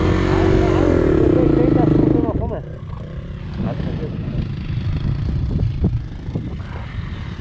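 Enduro motorcycle held at high revs, then revving in bursts as it climbs a slope in an open-pit mine, loud and near, with people talking over the engine.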